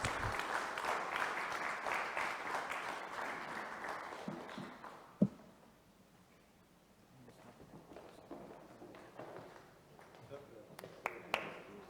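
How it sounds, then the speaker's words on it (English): Audience applause for a moderator and panelists at a risks and claims conference, a broad wash of clapping that fades after about four seconds into a quieter room with scattered sounds and brief voices. "please give them a big applause"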